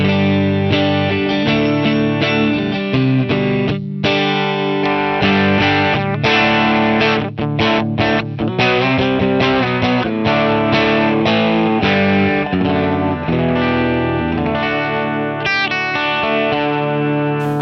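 Electric guitar played through an HX Stomp preset with treble and presence turned down, distorted chords and notes ringing continuously with effects, loud and close with a darker, less bright tone.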